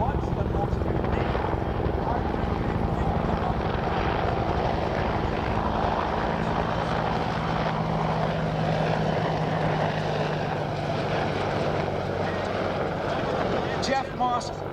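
An AH-64 Apache and a Bell AH-1 Cobra helicopter fly at an air show, giving a loud continuous rotor and engine drone throughout while an announcer talks over a public address.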